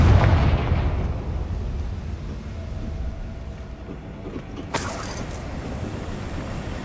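A Confringo blasting spell goes off in the Hogwarts Legacy video game: a loud, rumbling burst with a sharp crack near the middle, followed by a dull sustained roar and low background rumble, no talking.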